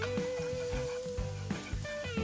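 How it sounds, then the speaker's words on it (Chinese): Minced garlic and ginger frying in hot oil in a pan before squid goes in, a close, soft sizzle with a few crackling pops over a background tone, no voices. "看它变成这个颜色后就可以开始煎小管"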